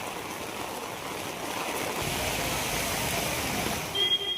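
Heavy rain pours steadily over a district during a prolonged downpour, a dense, continuous hiss that swells slightly partway through and stays loud and unbroken to the end, with no voices.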